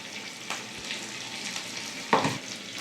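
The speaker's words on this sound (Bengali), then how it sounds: "ভালো করে মশলাটা আমি কষিয়ে নেব" A spice mixture with chili powder, sugar and salt sautés in a pan under a low, steady sizzle, broken by a few stirring scrapes, the last one louder and close.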